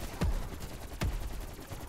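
Two sharp gunshot bursts from Call of Duty: Black Ops Cold War's Outbreak zombies mode, spaced about a second apart, each with a punchy low thump and a quick decay, close and fairly loud.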